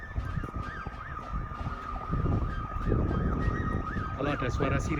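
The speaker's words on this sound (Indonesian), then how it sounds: "Kalau ada suara sirine itu di jalan, karena ini viaduknya dekat jalan." A wailing siren on a road near England's Ribblehead Viaduct rises and falls repeatedly in the distance over a rumbling background of traffic or machinery, growing slightly louder toward the end.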